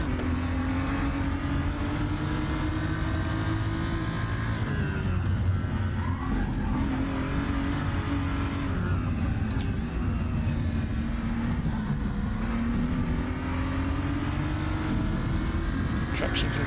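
Race car engine in a sim racing game at Zandvoort's national layout, droning steadily throughout with rising and falling pitch through gear changes, heard onboard with a faint voice over it.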